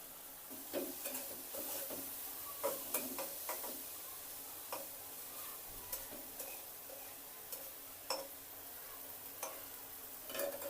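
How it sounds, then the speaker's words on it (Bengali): Soybean chunks fry in a home kitchen pan with a steady low sizzle, broken by scattered sharp clicks and scrapes as the pieces are stirred and turned. "সয়াবিনগুলো আগে একটু ভেজে রাখছি"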